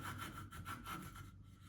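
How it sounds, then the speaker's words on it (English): Carving knife cutting into a wooden redhead duck decoy head where the bill meets the face, giving close, rhythmic rasping strokes, about five even scrapes in quick succession. "And carefully cut into where the bill meets the face, and make sure we don't gouge into the side of the bill material."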